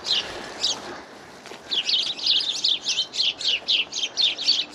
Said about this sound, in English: Some birds are really screaming over there.